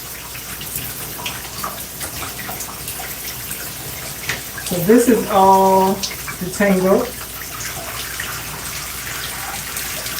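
Water running steadily during a hair wash, a constant splashing wash beneath someone talking, her voice rising briefly partway through.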